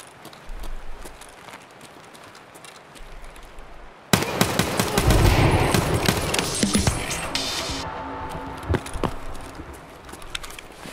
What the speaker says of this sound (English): That is some fast firing weaponry.